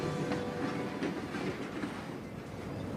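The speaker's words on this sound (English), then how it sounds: "This is the workhorse of the railroad, the ordinary, everyday freight car." Ordinary freight train cars roll steadily along the rails, a continuous low rumble with faint clacking that holds level and close throughout, with no voices.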